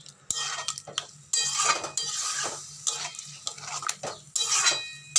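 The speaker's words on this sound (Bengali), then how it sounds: "পোস্ত আর লঙ্কা বাটা ভালো করে নেড়ে চেড়ে নিচ্ছি" A spoon scrapes and clinks around a pan while stirring potatoes coated in poppy seed and chili paste for aloo posto, with repeated bursts of metallic scraping over a soft, faint sizzle.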